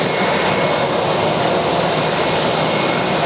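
Spirit Airlines Airbus A321ceo with International Aero Engines (IAE) engines, eight years old, bound for Miami from an Atlanta airport, gives a steady, loud, broadband jet roar that holds evenly throughout, with no voices.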